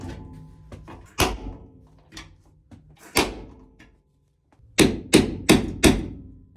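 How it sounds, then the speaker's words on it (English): Hammer blows knocking out rivet heads on spot-welded car body panels during a Cherokee and Rambler 4x4 build, metallic strikes scattered irregularly then a quick run of four heavy hits, close and loud with no talk. "I have about 585 or so rivet heads to knock out"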